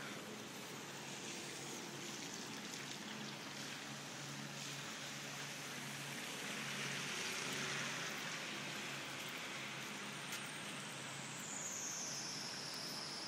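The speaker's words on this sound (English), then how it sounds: "And it's raining more." Steady rain pours on a flooded street at night, a dense, even hiss of falling water that continues unbroken, faint and distant with no voices.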